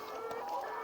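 Chickens clucking beneath a chicken coop, a close, continuous chorus of overlapping clucks and calls from many birds, steady and fairly loud over the short moment.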